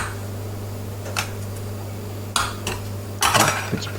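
A small food ring pusher presses purée, giving a few light metallic clicks and taps against dishes, sparse and close over a low steady hum.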